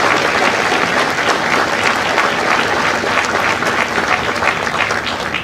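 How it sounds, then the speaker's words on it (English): A graduation crowd applauds recruiters and combat instructors at the Marine Corps Recruit Depot San Diego Echo Company ceremony, with dense, steady, loud clapping throughout that fades slightly at the end. "a round of applause for our recruiters and our combat instructors"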